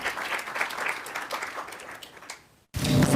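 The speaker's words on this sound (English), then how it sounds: "please give a round of applause to welcome Professor Ivanova" Audience applause welcomes a guest professor at a university talk: dense, steady clapping for about two and a half seconds, fading out, then a short gap before a louder burst of room noise.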